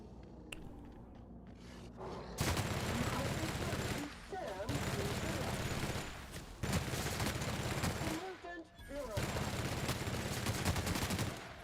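Rapid bursts of gunfire from a weapon in The Outer Worlds come in several loud, sustained volleys separated by short pauses, with a few breaks of near silence between firing stretches.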